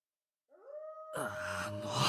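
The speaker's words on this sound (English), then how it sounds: "The dog is still howling somewhere outside the window." A dog in the visual novel Tsukihime howls in a long, drawn-out wail from outside a window, soon joined by a louder wash of background game sound and music.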